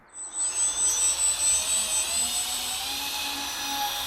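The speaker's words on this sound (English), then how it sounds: "So let's go outside and just do another flight on this P-68." An XFLY P-68 850mm twin-engine RC plane takes off from rough grass, its small electric motors whining and rising in pitch, pulsing at first, then holding a steady high drone.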